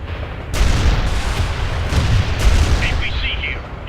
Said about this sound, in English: Launch the missile now!